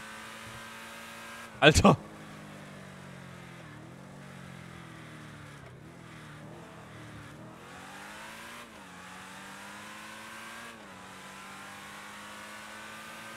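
A car in GTA Online accelerates hard, its engine note climbing and shifting through gears with a steady rising drone, while a voice exclaims briefly near the start.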